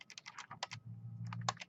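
Typing on a computer keyboard, a quick burst of close, crisp key clicks over a faint low hum, brief and quiet with no voice.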